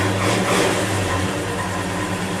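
An engine without a choke idles roughly and steadily up close after a cold start overnight, a low uneven rumble with a faint shift in tone partway through.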